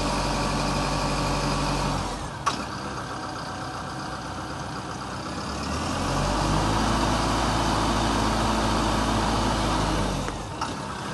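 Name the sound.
Zoomlion 1404 tractor engine revving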